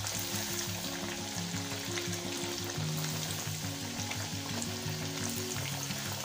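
Sabudana vadas fry in oil on medium heat, a steady dense crackling sizzle that runs without pause, close but soft, with a low hum underneath and no voices.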